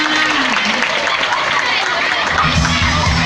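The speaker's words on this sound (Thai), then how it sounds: "หากว่าท่านผู้ชมพอใจขอเสียงปรบมือด้วยค่ะ" An audience of students applauds at an elephant farm show, a steady wash of clapping with some cheering, fairly loud and continuous, with a voice talking over it.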